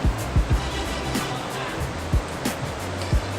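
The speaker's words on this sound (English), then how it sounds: "it looks like there are some rapids over there" Rushing river rapids near the Bermejo waterfalls outside Santa Fe, Panama, a steady broadband water roar filling the whole clip, broken by a few low thumps and bumps close by.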